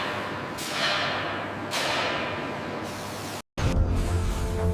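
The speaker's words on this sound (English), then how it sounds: "The hull is spray painted with a deep," Paint sprayed onto a ship's hull in a deep protective black gives a steady hissing rush in close bursts, each starting sharply and running a second or more, with a brief gap before a lower rumble.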